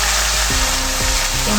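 Chana dal frying and being stirred in a pan, a loud, close, continuous sizzle with brief scraping stir sounds.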